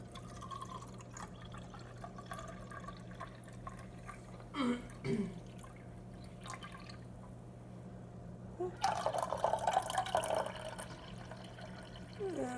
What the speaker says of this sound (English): So we pour le café.